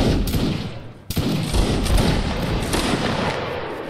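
A musket volley fired by an infantry line in a Napoleonic Wars video game, heard as a dense loud crackle of many shots that rolls on for several seconds.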